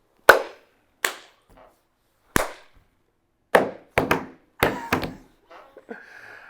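A few people clap together in sync, producing sharp, isolated claps with pauses between them, some in quick pairs, fairly close and with no talking.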